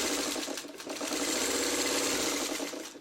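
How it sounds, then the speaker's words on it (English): A sewing machine runs close and steady, stitching quilt block pieces with a fast, even mechanical whir and rapid needle clatter, briefly easing once before carrying on to the end. "you're going to sew right along here"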